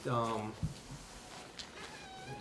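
A house cat meows once, a short near cry at the start, followed by faint room noise and soft talk in the background.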